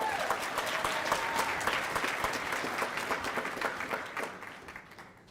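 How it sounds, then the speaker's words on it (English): Graduation audience applauding at a spring ceremony, steady dense clapping from a large crowd that holds for several seconds before tapering off toward the end. "So one more thank you and round of applause for them."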